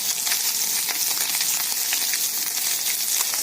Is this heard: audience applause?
no